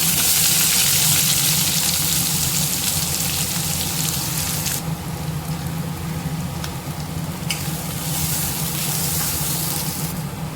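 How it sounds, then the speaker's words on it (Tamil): Shallots and dried chilli fry in a pan for green gram sambar, a loud steady sizzling hiss running the whole time, with brighter surges partway through and near the end. "நல்லா வெங்காயம் வதங்கிருச்சு"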